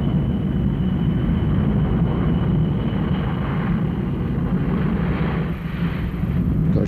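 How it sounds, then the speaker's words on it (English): Boeing 707 jet engines at Renton spool up for takeoff, a loud, steady broadband roar that holds close and continuous with a brief dip near the end and no talk. "Boeing 707, we're cleared to come up on power."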